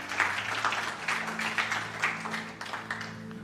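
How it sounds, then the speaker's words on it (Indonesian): Church congregation applauding together, a steady wash of clapping from many hands with a sustained low hum beneath it. "Berikan tepuk tangan."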